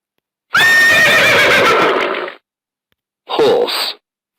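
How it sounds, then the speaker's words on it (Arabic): A horse neighs loudly and close, a long shaky whinny lasting nearly two seconds, then a shorter second call after a brief pause, with no other sounds around it. "horse"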